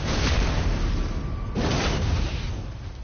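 Ballista explosion in Elden Ring, two heavy booming blasts about one and a half seconds apart, the second one followed by a rumbling tail, loud and close in a noisy game soundscape.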